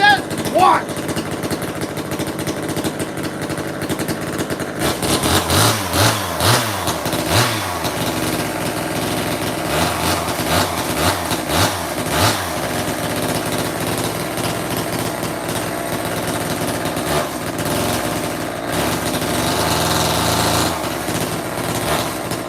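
A freshly sharpened chainsaw with rakers set runs and revs in bursts, cutting with a rough high buzzing drone that rises and falls over about twenty seconds, with a person talking at moments.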